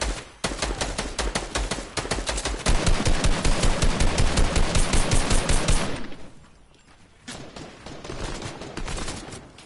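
Rapid automatic gunfire in a battle royale video game, loud sustained bursts of dense repeated shots for several seconds, then a lull and a quieter scattered volley of shots toward the end.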